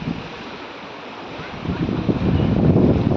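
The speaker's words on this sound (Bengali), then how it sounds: "বেশ ঢেউ আছে বাতাস আছে" Rough river waves and gusting wind swell steadily, growing louder toward the end with a low churning roar.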